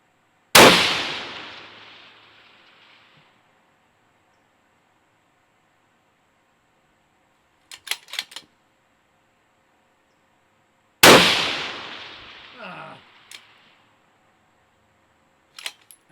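Two loud rifle shots at a 700-yard range, a 6 ARC and a 6.5 Creedmoor, spaced about ten seconds apart, each a sharp crack trailing a long rolling echo, followed seconds later by a faint, distant cluster of clicks.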